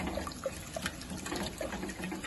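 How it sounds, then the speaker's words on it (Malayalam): Boiled hot water is poured into a pot of rasam, giving a soft, brief splashing and trickling sound that stays faint and close with no voices over it. "തിളപ്പിച്ച വെള്ളം ഒഴിക്കുകയും ചെയ്യാം"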